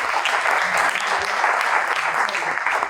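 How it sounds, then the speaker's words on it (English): Audience members at a panel discussion applaud the panelists with a brief, steady round of close, dense clapping that runs throughout. "Ladies and gentlemen, a round of applause for our panelists."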